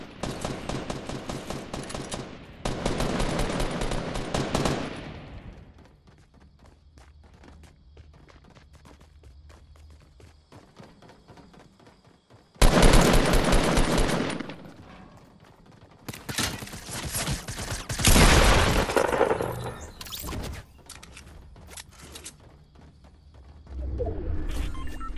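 Bursts of video-game assault rifle fire ring out in long, loud automatic volleys, separated by quieter stretches of ambient background, with several separate strings of rapid shots across the span.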